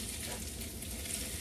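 Onions cook in a pan for kimchi fried rice, giving a faint, even sizzle that holds steady without talk.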